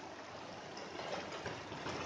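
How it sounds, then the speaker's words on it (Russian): A mountain stream in the Carpathians flows steadily beside a hiking path, a soft continuous rush and trickle at low level with nothing else standing out. "Дорога постоянно проходит через ручьи."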